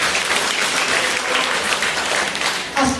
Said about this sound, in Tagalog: Palakpak kayo.